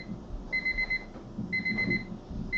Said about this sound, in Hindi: अलार्म क्लॉक क्यों बज रही है